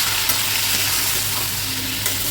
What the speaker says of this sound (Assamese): নিমখ দিছোঁ, দিছোঁ। ধুনীয়াকৈ লৰাই দিওঁ।